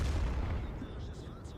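A tank cannon shot in World of Tanks aimed at a T-49 turret: one heavy booming blast at the start, its rumble decaying over the following second.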